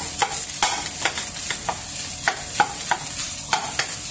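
A spatula scrapes and stirs cooked rice in a sizzling pan for Japanese fried rice, with about a dozen rhythmic strokes over a constant close hiss of frying.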